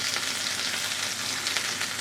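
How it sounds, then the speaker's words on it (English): Okonomiyaki batter sizzles over frying bacon on a hot surface, a dense, steady frying hiss with light crackle, close and continuous with no talking. "We're just spooning the batter, half the batter, on top of the bacon now."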